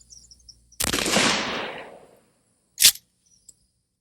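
A shotgun fires number 9 birdshot into soft body armor on a mannequin: one loud, sharp blast with a decaying tail, followed by a brief click.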